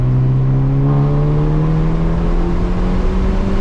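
A modified Hyundai Elantra N accelerates hard, its engine note climbing steadily in pitch as the revs rise, loud and continuous from inside the cabin with no talking.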